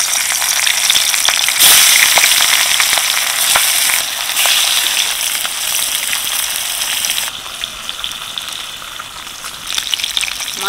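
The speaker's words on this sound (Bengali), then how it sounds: "এবার আমি এই তেলে মাছগুলো ভালো করে ভেজে নেব।" Fish, rohu for a spinach-coriander dish, sizzles in hot mustard oil in a pan, a steady loud crackling hiss with scattered pops that eases slightly toward the end, with no voices.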